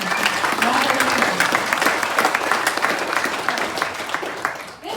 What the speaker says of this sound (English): Round of applause for their testimony.